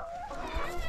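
Chickens clucking inside a small barn coop with water and feed, a steady close cackle of several hens filling the whole second with no talk.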